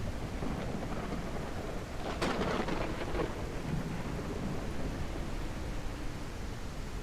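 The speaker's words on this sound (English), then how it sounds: "Ah, it'd be stormy around here now." A video game thunderstorm near a boat pours steady rain while a crack of thunder breaks out and rolls away, the downpour a constant hiss that stays loud all the way through.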